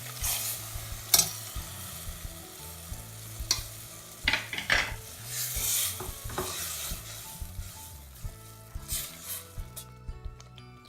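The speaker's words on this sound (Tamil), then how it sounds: "மிக்சியில் அரைச்ச தேங்காயை சேர்க்குறேன்." Ground coconut paste being stirred into mutton kurma in a pan, with a spoon scraping and stirring in repeated strokes over a steady frying sizzle, fairly close and without talk.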